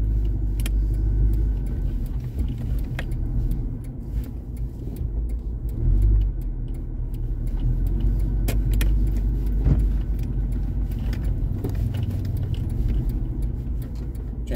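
Cars idling in a stalled traffic jam on a roundabout, a low steady engine rumble close by with occasional small clicks and a brief swell near the middle, no voices.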